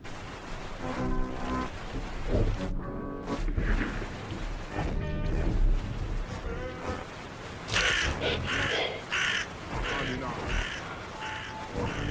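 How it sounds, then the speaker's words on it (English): Crow in the horror game Jisatsu cawing repeatedly while picking at a body outdoors, harsh calls recurring over ambient wind or surf, with a person talking over parts of it. "A crow's literally picking at her."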